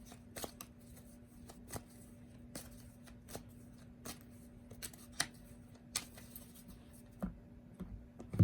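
Soft, sparse tarot card handling, quiet riffles and taps spaced out over a low steady hum, with no talking.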